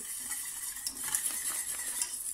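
Steady scraping and light clinking of a utensil stirring a thick cream mixture with vanilla in a pan, continuous and close, with no voices.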